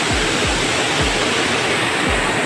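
A waterfall roars as a steady, loud broadband wash of falling water with no voices, broken only by a few low thumps.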